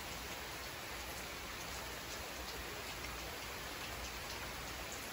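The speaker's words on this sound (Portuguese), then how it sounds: "Vê se vocês conseguem escutar o barulho da chuva que tá caindo aqui." Steady rain falls at night outside a chalet, a dense, even hiss of drops on surfaces that holds constant from start to finish with no voices.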